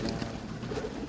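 Pigeons coo softly in a brief, fairly faint burst of low throaty calls, heard alone.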